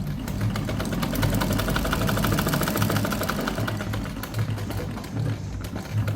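A sewing machine runs steadily while stitching the neckline of a blouse, giving a continuous, close mechanical whir with a fast regular pulse and no pauses.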